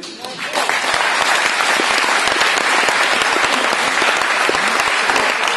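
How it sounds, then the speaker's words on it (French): Dense, sustained applause from a large audience at an award ceremony for an industrial continuous particle-size measurement project, steady and loud throughout after a brief quieter start. "On peut applaudir."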